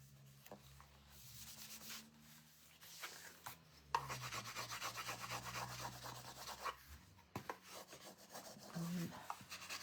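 Stain is rubbed by hand into a sanded wooden pumpkin patch door tag, giving soft, uneven rasping strokes close to the microphone, with quiet background hum and a few faint knocks.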